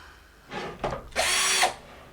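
A Black & Decker BCD001 cordless drill whirs in two short bursts, a brief spin-up followed by a louder, steadier run of about half a second, close by with no talk.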